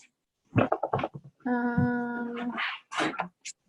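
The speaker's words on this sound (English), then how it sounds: "Oh, and the dog wants to be let in." A dog whimpers to be let in during a family video call: a sustained, high, tonal whine stands out between bursts of nearby speech.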